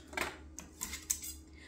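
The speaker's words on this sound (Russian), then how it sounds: "Сюда входит вот такой набор этих ножей." A set of dishwasher-safe kitchen knives being handled, with light metallic clinks and taps scattered irregularly at close range over a quiet background, and no talking.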